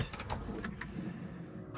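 A generous storage drawer slides open in the bedroom of a Le Voyageur Heritage 7.9 GJF motorhome, giving a short, close scraping rumble with a few light knocks over about two seconds.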